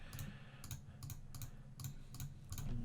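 Repeated computer mouse clicks while painting digitally: about seven sharp, close clicks in an uneven rhythm over a low steady hum, with no talking.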